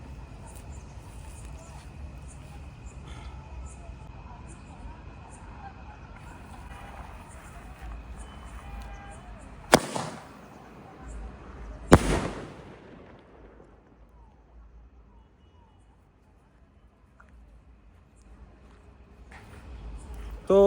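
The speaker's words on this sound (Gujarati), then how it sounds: "એક આ ટેટો ફોડી" Two sharp firecracker blasts burst out in a village, the second about two seconds after the first, each loud and echoing before fading into quiet.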